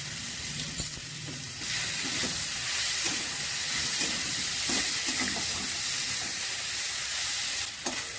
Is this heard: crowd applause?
no